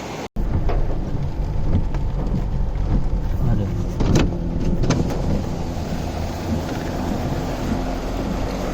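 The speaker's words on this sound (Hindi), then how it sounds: "बारिश हो रही है" Steady rain pours down at the Uttarkashi dam in the Uttarakhand mountains, a dense loud hiss throughout, with a few sharper splashes or knocks along the way and no talking.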